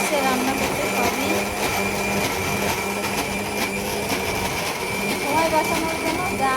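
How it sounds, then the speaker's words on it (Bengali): An electric blender grinds ingredients for bhorta mash with a loud, steady whining drone that runs without a break, while a person talks over it. "আমার বোন ব্লেন্ড করতেছে, খুব ভালো ভর্তা বানায়"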